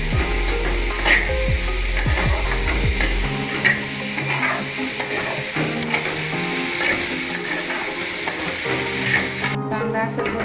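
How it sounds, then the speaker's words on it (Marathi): Onion sautéing in a pan for onion chutney, a steady loud sizzle with repeated stirring scrapes of the spatula throughout, no voices. "थोडासाच परतायचा आहे."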